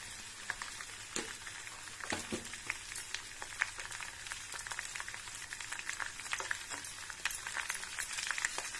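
Curry leaves and turmeric fry in hot oil for a tempering for a Telangana-style red chilli pickle. A loud crackling sizzle with sharp pops continues throughout, joined by clinks of a utensil, with no talking.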